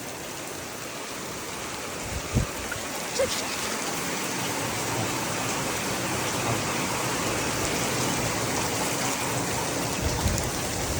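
Steady rain falls outdoors in a Konkan village, a dense continuous hiss close around the listener, with a couple of brief louder knocks early on.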